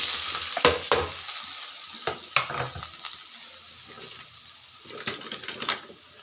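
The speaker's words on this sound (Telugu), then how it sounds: "ఇవి ఫుల్ గోల్డ్ కలర్ వచ్చే వరకు ఫ్రై చేసుకోండి." Onions fry in oil for an egg fry, with a crackling sizzle broken by repeated scraping stirs of a utensil against the pan, close and moderately loud.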